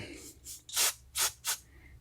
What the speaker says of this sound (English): Maybe I'll try and loosen up whatever's in there with a little bit of carb spray.